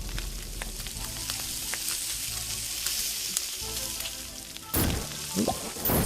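Food sizzles steadily in a pan while sautéing in the cooking game Beastro, a dense continuous fry with a few brief clacks and a louder burst of crackling near the end.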